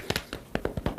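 Palms pat the face in a quick self-massage, making about eight light, close taps in a fairly steady rhythm.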